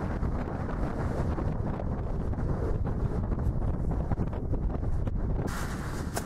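Strong wind buffets an exposed hillside, roaring and gusting loudly against the microphone without a break for the whole stretch.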